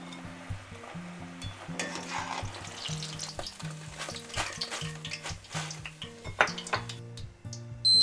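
Chicken pieces deep-frying in hot oil for kkanpunggi, a continuous close crackling sizzle with occasional clinks of a metal strainer or utensil against the pot, no talking.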